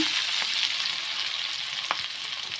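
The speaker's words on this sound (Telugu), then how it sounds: "ఎండుమిర్చి కొద్దిసేపు ఫ్రై అవ్వాలి" Dried red chillies fry in hot oil for amla pickle, a steady close sizzle with a few brief crackles and a light stirring knock.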